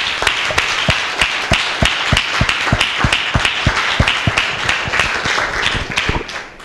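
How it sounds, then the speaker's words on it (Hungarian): Audience applause welcoming a speaker to the stage at a bilingual presentation, a steady, loud burst of many hands clapping that fades out near the end. "give a round of applause"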